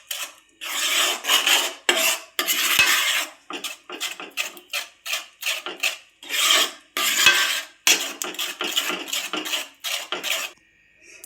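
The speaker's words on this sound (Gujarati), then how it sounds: "સરસ રીતે હલાવી લેશું." A spoon scrapes and rasps through a thick Parle-G biscuit ladoo mixture with ghee in a pan, in repeated rhythmic stirring strokes, close and loud, with no talking.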